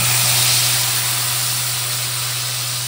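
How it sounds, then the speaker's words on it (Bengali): Spice paste hits hot oil in a pan of fish being fried with nigella seeds for a Bengali mustard-poppy seed pomfret curry, giving a steady, loud, broadband hiss of sizzling with no pauses. "এখন এই মশলার পেস্টটা দিব, পেস্টটা দিচ্ছি সুন্দর।"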